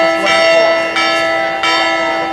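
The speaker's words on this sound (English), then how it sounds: "Again, sorry about the bell." A loud bell tolls three times at a 2014 commencement ceremony, each clear ringing strike following the last about every two-thirds of a second, with the ringing tone lingering between hits.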